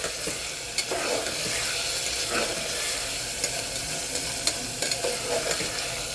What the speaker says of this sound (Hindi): कीमा डाल के हम थोड़ी देर भूनेंगे इसको।